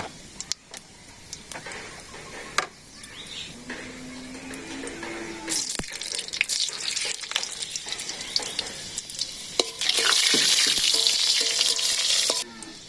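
Bay leaf, cumin and fenugreek crackle and sizzle in hot oil for a village-style dal, close and steady with scattered pops and stirring knocks, the hiss swelling loudly near the end before cutting off.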